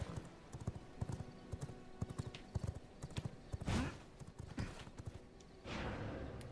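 Horse hooves clip-clop in V Rising, a quick irregular patter of close, sharp hoofbeats with a couple of louder rushing bursts near the end.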